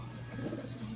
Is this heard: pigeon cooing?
yes